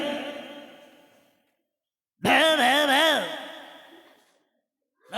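A performer's voice mimics a dog barking as Marathi comedian Dada Kondke's pet might, giving a drawn-out wavering howl-like vocalization after a fading breathy sound and a short silence, close and loud.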